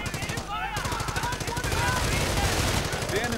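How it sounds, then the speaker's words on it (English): Rapid, continuous machine-gun fire from a machine gun team in a real-time strategy battle between machine gunners and automatic-armed grenadiers, dense overlapping bursts filling the whole stretch, with a commentator talking over it. "MG team versus the Grenadier team with all the automatics"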